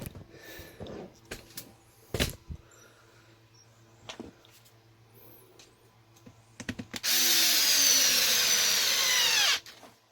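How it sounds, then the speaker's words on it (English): Screws being driven into an Arrma Kraton RC car's rear differential: scattered handling clicks and taps, then a loud, close power driver whirring steadily for about two and a half seconds before stopping. "Need to get a couple screws in there"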